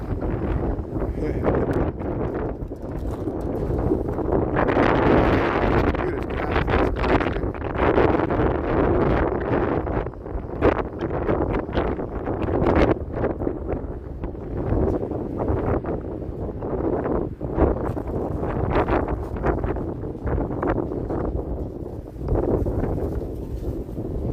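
Strong wind buffets the microphone continuously for a long stretch in cold, snowy Chicago, with rumbling gusts rising and falling in uneven surges.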